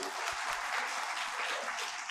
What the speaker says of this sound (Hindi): तो दीदी के लिए थोड़ी ताली।